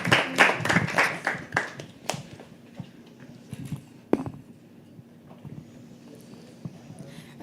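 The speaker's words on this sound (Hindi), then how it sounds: "Yes keep clapping guys." Audience at a live poetry open mic clapping in loud bursts that thin out into scattered claps and room murmur, with a few isolated claps trailing near the end.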